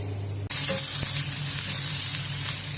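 Onions frying in a pan for a dried fish curry, a loud steady sizzle that bursts in suddenly after a brief low hum and then holds evenly, with faint clicks of stirring.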